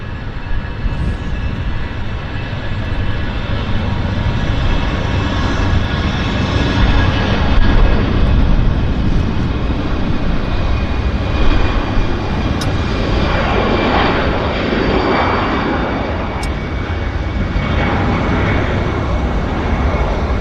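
Aircraft at Vancouver airport produce a loud, continuous jet-engine roar that holds steady for about twenty seconds, swelling slightly midway with a broad rushing hiss.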